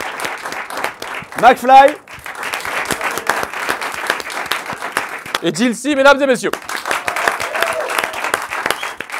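Studio audience applauds guests Carlito, McFly and Jilcy at a French debate show, steady clapping running under a host's voice as he introduces them.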